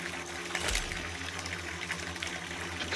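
A steady, fairly loud stream of water fills a bathtub in the horror game VISAGE, with a low mechanical hum beneath it and a brief surge near the start.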